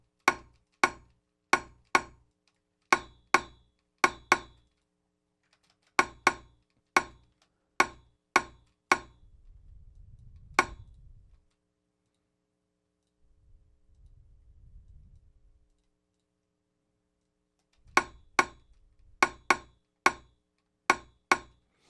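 A metallic one-shot sample triggered repeatedly, sharp bright clicking hits in quick rhythmic groups, separated by a gap holding a couple of low rumbling swells, fairly faint overall.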